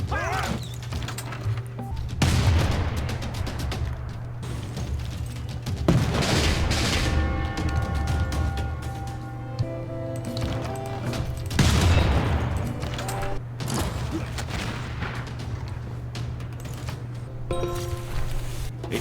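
Units exchanging fire in the strategy game Civilization VI: repeated volleys of crackling gunshots and heavy booms come in several distinct waves, separated by quieter stretches with mechanical game effects.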